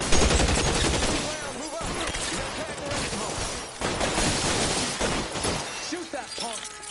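Gunfire from a shootout in L.A. Noire, rapid loud volleys of shots with glass-shattering crashes and bursts throughout, while voices shout in the middle of the firefight.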